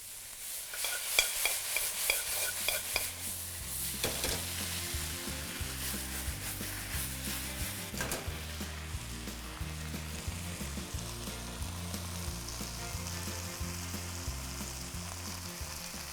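Cabbage, beans and bell peppers are stir-fried with chowmein sauce mix in a wok for street-style Hakka noodles: a continuous loud sizzle under rhythmic scraping and clanging of the spatula against the wok, alone without speech.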